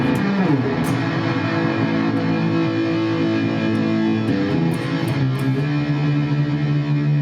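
Electric guitar played through a Boss Katana amp on its distortion setting: dense, sustained overdriven chords that ring loud and steady with no pauses or talk.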